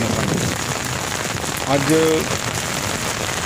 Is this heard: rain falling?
yes